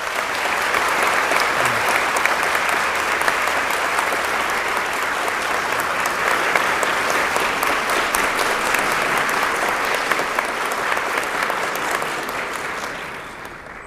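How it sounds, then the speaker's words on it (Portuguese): An audience at a university event gives sustained, dense applause for a former mayor and minister, a steady wash of clapping lasting over ten seconds before tapering off at the end. "Queria pedir uma salva de palmas."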